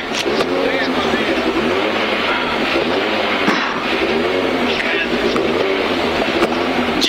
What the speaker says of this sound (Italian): Roby, si sente bene venire giù la macchina?